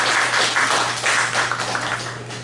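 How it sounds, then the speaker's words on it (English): An audience applauds a volunteer at a lecture, a dense burst of clapping that holds steady for a couple of seconds, loud and close. "Give Allie a round of applause"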